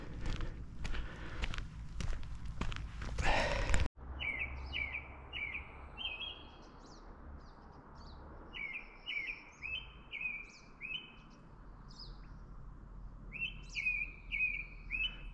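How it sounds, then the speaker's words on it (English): A small bird on the Tramline and Lake Agnes trails near Lake Louise, Alberta, gives repeated high, clear chirps in short runs of three or four notes over steady stream or wind noise, after a few seconds of footsteps. "what kind of bird is this"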